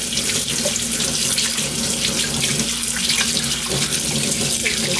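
Tap water runs steadily into a kitchen sink while a cutlassfish is washed clean by hand. The loud, continuous splashing stays close, with faint handling sounds underneath and no talk.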